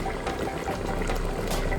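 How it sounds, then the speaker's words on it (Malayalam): Varal (snakehead) fish curry bubbling in a pot, a steady close churning and simmering hiss that swells slightly toward the end, with no talk over it. "നമ്മുടെ മീനൊക്കെ ഇങ്ങനെ അങ്ങോട്ട് തിളച്ച് മറിഞ്ഞോണ്ടിരിക്കുകയാണ്"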